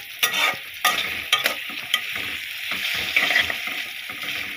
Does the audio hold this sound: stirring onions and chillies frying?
yes